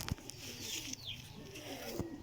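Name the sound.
commander pigeons cooing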